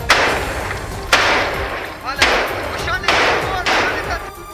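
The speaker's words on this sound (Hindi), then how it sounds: "खान यूनिस के कई इलाके गोलियों और बमों की आवाज से थर्रा उठे" Gunfire and bomb blasts ring out in Khan Younis. Four or five loud, sharp bursts land about a second apart, and each leaves a long, harsh wash of noise that fades before the next blast.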